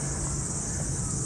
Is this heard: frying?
no